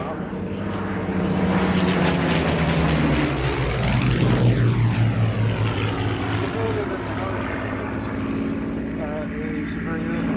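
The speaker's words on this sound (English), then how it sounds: "A Mark III Merlin engine developing 1185 horsepower powers the aircraft." A propeller aircraft powered by a Mark III Merlin engine of 1185 horsepower passes by with a loud, droning roar that swells and shifts in pitch as it goes, with talk over the engine noise.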